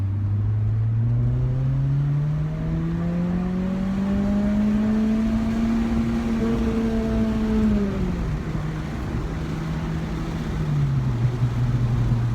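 An Acura RSX Type S fitted with an Invidia Q300 exhaust accelerates hard, its engine note climbing steadily through the revs, shifting, then rising again, loud and droning, heard from inside with the windows down and no talking.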